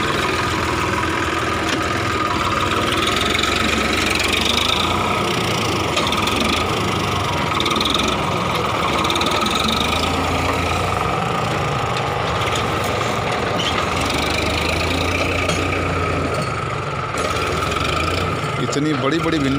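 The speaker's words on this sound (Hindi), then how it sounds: "इसके जड़ों को काटना भी ट्रैक्टर के लिए मुसीबत पड़ रहा है।" Tractor engine running steadily while ploughing a field of tall okra plants, cutting through the thick roots, with continuous mechanical rattling and clanking of the implement throughout, loud and close.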